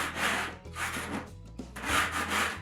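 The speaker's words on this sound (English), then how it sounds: "I'm going to take my scraper that way along it, and that will take off all of those high edges or ridges or points" A scraper drawn along a textured wall, knocking down high ridges and points before joint compound, gives three long rasping strokes with short pauses between, close and steady, no voices.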